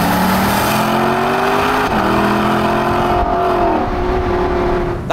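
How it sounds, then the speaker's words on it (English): A Lexus LC convertible's engine hums steadily at speed, its pitch stepping up and down through several quick gear changes, loud and close with road and wind noise underneath. "listen to these downshifts. And the upshift as well."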